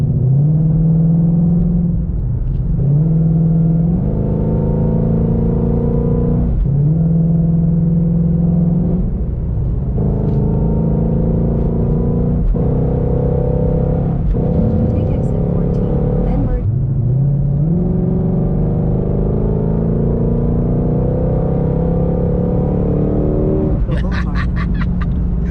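A Shelby GT500 engine drones loudly from inside the car while driving, with repeated rises in revs and gear changes that drop the pitch. The rumble is steady and close, with brief higher noises near the end.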